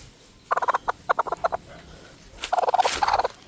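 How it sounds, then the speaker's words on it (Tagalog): Hen clucking on a Filipino farm near nesting spots: two bursts of rapid, throaty clucks with a gap between them, the second run denser and louder, close by with no talk. "Yan yung manok. Yung inahin."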